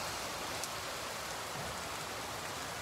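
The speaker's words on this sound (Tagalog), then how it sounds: "dito pa tayo, inabot tayo ng ulan" Steady rain falls in a continuous, even hiss with no clear individual drops standing out and no voices.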